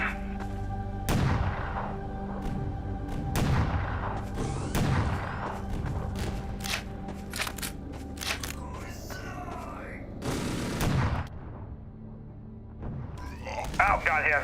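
Sniper rifle shots in the video game E.Y.E. Divine Cybermancy: several sharp, loud cracks spread across the span over a steady game background, with a voice talking intermittently.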